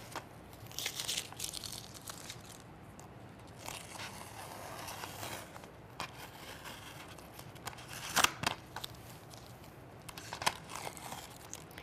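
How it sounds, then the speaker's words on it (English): Tape gently peeled off a board, quiet crinkly tearing and rustling strips in irregular bursts, with a sharper rip near the middle, close and without talk. "So you'll just gently pull off the tape."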